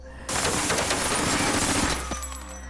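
An Uzi fires a long, continuous burst into a Cadillac car in a film scene, rapid dense gunshots for about two seconds before trailing off into echoing debris.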